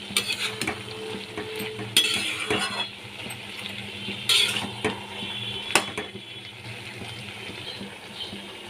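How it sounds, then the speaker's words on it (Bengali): Hilsa fish heads are stirred into a sizzling pan, with steady scraping and clinking of a spoon against metal. A few louder knocks sound over the soft frying hiss, close by and without speech. "ভালো করে এবার মাথাগুলোকে এর মধ্যে মিশিয়ে নিতে হবে"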